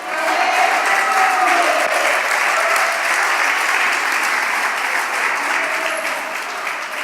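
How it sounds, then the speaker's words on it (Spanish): A church congregation applauds during a sermon, a loud, dense and steady wash of many hands clapping that holds for several seconds and eases slightly toward the end. "Aquí tenían que estar los aplausos más fuertes también"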